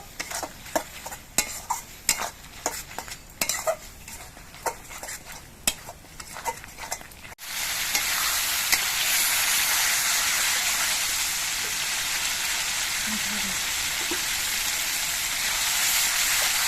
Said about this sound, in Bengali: এবার মশলাটা কষাতে থাকবো।